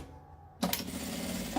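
A sewing machine starts up abruptly and runs a quick, steady burst of stitching along the edge of mesh fabric on a men's toiletry pouch, close and fairly quiet.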